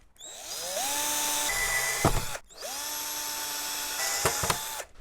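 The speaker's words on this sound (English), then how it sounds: "I'm gonna drill some small holes for zip ties" A power drill whirs in two steady bursts, drilling small holes in a kayak fishing crate, each spinning up and running for about two seconds with brief clicks and a short pause between.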